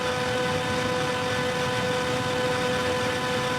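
A motorcycle engine from the TT Isle of Man 2 racing game drones steadily at high revs, a constant buzzing whine without pause or gear change.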